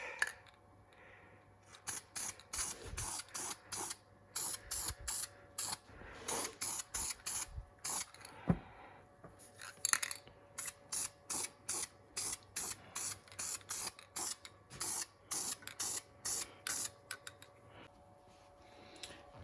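An aerosol spray can lays a final paint coat on the frame of a 1989 Kawasaki Ninja ZX7 motorcycle, hissing in many short, rapid bursts that come in uneven clusters, close and fairly quiet.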